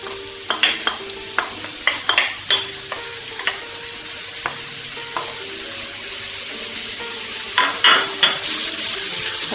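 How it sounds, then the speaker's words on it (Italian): Chopped carrot and onion hit hot extra-virgin olive oil in a pan and fry with a steady close sizzle. Repeated sharp clicks and scrapes of a utensil stirring against the pan run through it, with a burst of stirring near the end and no talk. "quando avrà preso calore aggiungiamo il trito di carote e cipolla"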